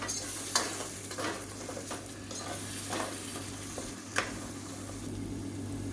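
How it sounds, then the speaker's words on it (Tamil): Tomato puree sautés in hot oil in a pan for a soya chunk (meal maker) curry, giving a steady soft sizzle with a few scraping stirs and light clinks of a spoon against the pan, close by and with no talking. "சேர்த்துட்டு நல்லா எண்ணெய் பிரிஞ்சு வர அளவுக்கு நல்லா வதக்கி விட்டுக்கலாம்"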